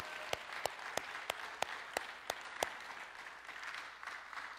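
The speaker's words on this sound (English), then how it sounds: "let's give them a big round of applause." At a Mother's Day church service, a congregation applauds the mothers with a soft, distant wash of clapping punctuated by several sharp, evenly spaced nearby claps.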